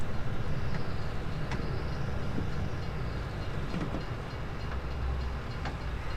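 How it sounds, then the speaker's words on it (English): A train in the video game Farming Simulator 22 rumbles past, a loud continuous low roar of rolling wagons with faint rhythmic clacks over the rails, no talking. "There goes the train again. He drives by an awful lot."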